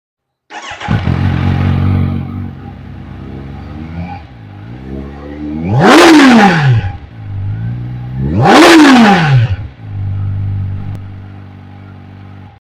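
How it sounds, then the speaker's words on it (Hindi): A Kawasaki Ninja 1100 SX superbike on its stock exhaust starts up, idles, then gives two hard revs that climb and fall away before settling back to a steady idle, loud and close with no talking. "अब मैं सुनाता हूँ आपको निंजा 1100 SX की स्टॉक एग्जॉस्ट साउंड"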